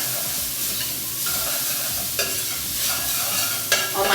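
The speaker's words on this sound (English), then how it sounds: "Let's give it a stir." Garlic and ginger sizzle and crackle in a hot pan while being stirred, a steady close frying hiss broken by a few sharper spatula scrapes and clinks.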